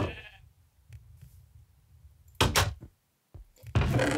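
Sheep in a video game give a few short bleats over quiet game ambience, with louder bursts of sound near the middle and at the end.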